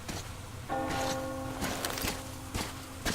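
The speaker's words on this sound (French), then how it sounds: "Tu as entendu la cloche?" A church bell tolls in the Metro Exodus video game, a single clear ringing strike with lingering tonal hum, heard over rustling and footstep-like ambient noise.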